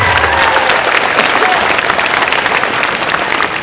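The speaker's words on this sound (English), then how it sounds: "another round of applause for UTM" Loud, dense applause from a lecture audience at a university ceremony honouring Tony Fernandes, a continuous roar of clapping with crowd noise that holds steady for several seconds.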